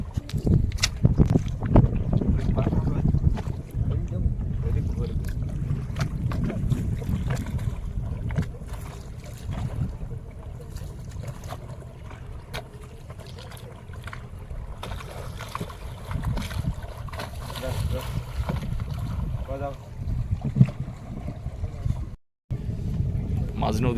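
A fishing boat moves along a river in the Sundarbans during a storm, low rumbling and water noise with wind buffeting, while people talk intermittently over it.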